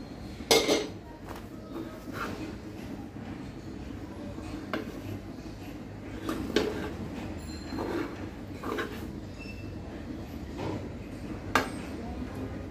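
Vegetables for fried rice being stir-fried in a pan over low heat, with scattered light metallic clinks of the utensil against the pan over a soft, steady background.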